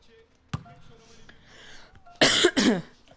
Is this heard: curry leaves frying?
no